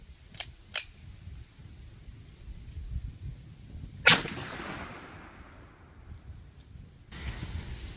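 Close, sharp gunshots from a Rock Island XT 22 Magnum rifle, two quick cracks followed after a pause by a louder shot with a fading ring, then a fainter metallic clack.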